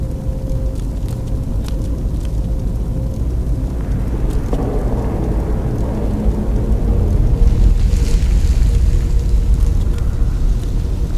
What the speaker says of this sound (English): Sounds like this cave is about to cave in on me.